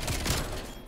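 Rapid automatic gunfire from a Call of Duty: Cold War match, a dense continuous burst of shots filling the whole second at steady loudness with no talk over it.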